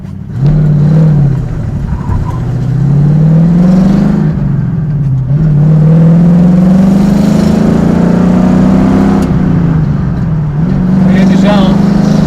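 A 1968 Ford Mustang GT with a 302 V8 pulls hard in second gear, its loud engine note rising steadily with brief dips at gear changes, heard from inside the car with some talk over it.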